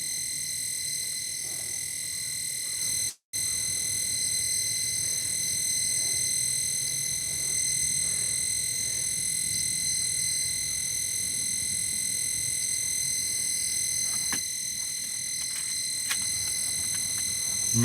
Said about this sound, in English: yeah, that noise is coming from the old flasher